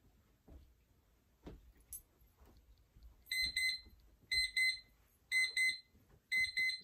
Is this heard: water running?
no